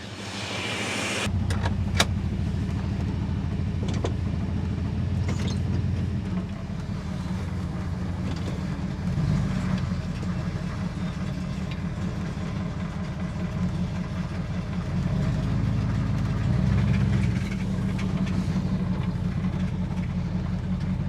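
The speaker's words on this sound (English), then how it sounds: "And this is going to be the first time we drive it with its new brakes," A 1966 Ford station wagon being driven on newly fitted brakes, its engine giving a steady low rumble heard from inside the car, with faint clicks and rattles and no talk.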